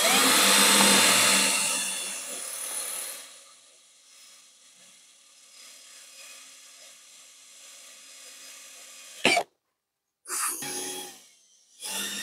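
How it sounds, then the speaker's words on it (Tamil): A Ralli Wolf RCD21 cordless drill bores into half-inch wood with a loud whirring burst that fades into a quieter, steady hum, followed by a few brief, sharp bursts of spinning. "நம்ம இப்போ இதில் வந்து ட்ரில் பண்ணி செக் பண்ணி பார்த்துக்கலாம் மிஷின் எப்படி ஒர்க் ஆகுதுன்ட்டு."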